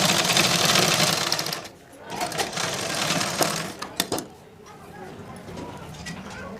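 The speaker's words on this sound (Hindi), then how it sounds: "सिलाई लगा देंगे इस तरह से चारों तरफ से" A sewing machine stitches the lining of a blouse in loud, close bursts of rapid whirring with pauses between them. A voice talks over it, and pigeons coo faintly in the background.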